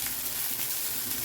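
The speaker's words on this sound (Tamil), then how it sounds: "இது நல்லா டீப்பாக ஃப்ரை ஆகுதுங்க" Onions frying in oil in a pan for kothavarangai (cluster bean) poriyal, giving a steady, close, even sizzle with no pauses and no voices.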